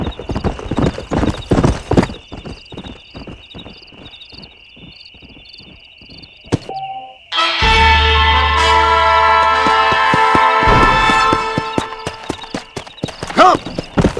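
Horse hooves clip-clopping at a steady rhythm in the Western video game Red Dead Redemption, close and clear over faint insect and frog ambience, with a brief whinny and swelling orchestral music taking over midway.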